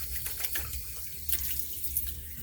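A hotel sink tap runs steadily, a continuous close rush of water with a few faint clinks, used for wetting the face.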